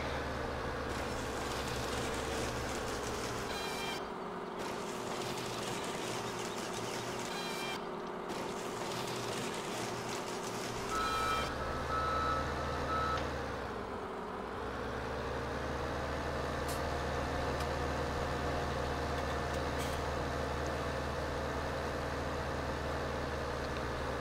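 A truck in Farming Simulator 17 drones with a steady, loud engine rumble throughout, dipping briefly as the engine note shifts midway, with no voices.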